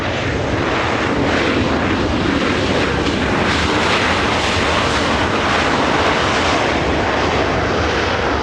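Airbus A330 airliner at Los Angeles International Airport, a loud, steady broadband engine roar held at close range for the whole stretch, with no voices over it.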